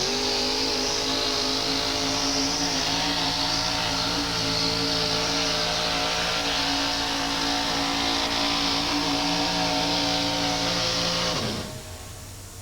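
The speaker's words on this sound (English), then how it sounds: "It had a 6-cylinder, 216 Chevrolet motor in it now." A 1987 USHRA truck-pull vehicle with a 216 Chevrolet six-cylinder engine roars at a steady, loud, strained pitch for over eleven seconds, then abruptly cuts out and drops to quiet.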